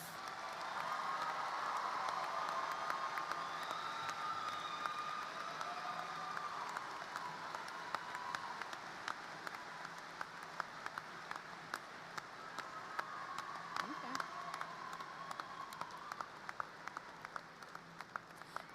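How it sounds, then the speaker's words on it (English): High school graduation crowd applauding the valedictorians and salutatorians, a long, distant-sounding ovation with scattered sharper claps, fading gradually while faint voices and cheering rise over it. "receive your well-earned round of applause"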